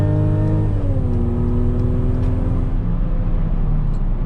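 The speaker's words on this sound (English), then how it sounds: "this engine is very responsive, and it's very quick" Mercedes-Benz GLC coupe engine pulling hard under acceleration, a steady loud drone with the pitch rising then settling, heard from inside the car during an evening drive.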